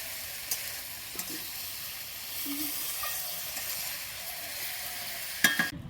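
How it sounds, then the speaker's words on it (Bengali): Sautéed cabbage curry simmers and sizzles in a pan after water is added, giving a steady, moderately loud hiss with a few soft stirring knocks, set outdoors and without any talk. "আমার সবজিটা কষানো হয়ে গেছে তারপরে জল দিয়ে নিছি"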